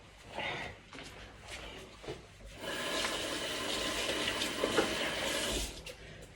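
Running water rinses items from a fridge and pours steadily under a sink tap, starting with a few splashes and then becoming a continuous rushing flow, with no one talking.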